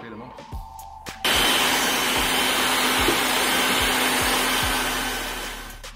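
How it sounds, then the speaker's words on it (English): A plastic welder, used as a heat gun on scooter graphics, starts with a click and blows in a continuous, loud, close hiss and roar. "I'd use it as a heat gun. And just heat up the graphics and peel them off."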